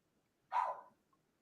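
A single dog bark rings out, one of several dogs in a house, moderately near and short, with quiet background afterward and no talking.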